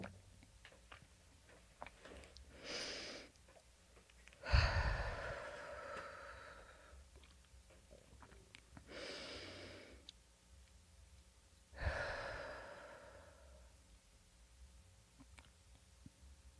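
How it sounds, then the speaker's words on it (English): A person takes slow, deep breaths during a channeling session, each long inhale or exhale coming alone at intervals of several seconds, close and fairly soft, with faint ticking in the quiet gaps. "You'll hear me breathing"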